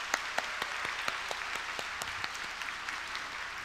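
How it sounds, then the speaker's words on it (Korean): Church congregation applauding a children's group during a special autumn early-morning revival service, a dense steady patter of many hands with a few sharper claps standing out, fairly distant and even throughout with no talk. "우리 소년부 친구들에게 다시 한번 크게 박수로 격려하도록 하겠습니다"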